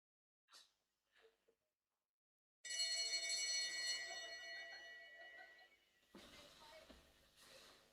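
A bell rings out for the final lap at a winter track cycling session, a bright sustained metallic clang that slowly decays after a few faint earlier taps.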